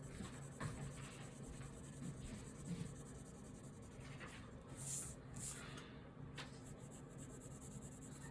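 Soft, continuous scratching of pencil strokes on paper during a Bargue shading exercise, steady back-and-forth shading with a few sharper scrapes, close and quiet.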